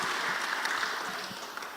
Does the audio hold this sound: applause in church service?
yes